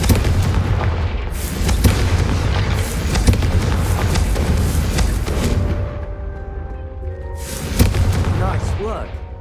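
Confringo fire spells exploding in Hogwarts Legacy, a run of loud, booming blasts with crackling bursts across the clip, the strongest near the start and again near the end, over continuous game background noise.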